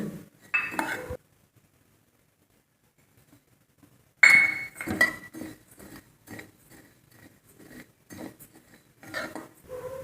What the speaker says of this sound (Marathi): आता मी गॅसवर कढई गरम करायला ठेवलेली आहे आता आपण धणे जिरे धणे जिरे बडीशेप भाजून घेऊ